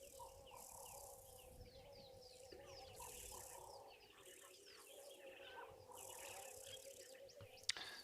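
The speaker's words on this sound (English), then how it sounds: "it's lovely that the birds are all out and calling" Birds calling at a waterhole in the wild, with repeated chirps and calls over a constant insect and cricket drone, moderately distant and fairly faint, with a brief click near the end.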